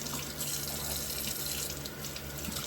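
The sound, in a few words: tap water running while washing chicken thighs in sink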